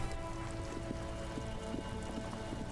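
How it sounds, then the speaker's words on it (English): Faint, steady rain patters on surfaces in the video game Disco Elysium, a soft continuous hiss with scattered drips and no voices. "This rain will not let up anytime soon."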